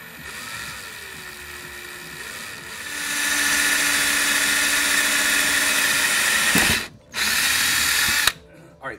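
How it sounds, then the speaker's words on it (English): A power drill boring a hole in a homemade paint shaker, with a steady high whine that rises and holds for several seconds, briefly cuts out, then starts again. "I'm just going to drill it right there."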